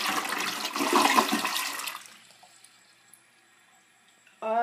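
A Kohler Wellworth toilet flushes close by, a loud rushing swirl of water that drains away after about two seconds into quiet trickling and refilling, then a brief gurgle returns at the end.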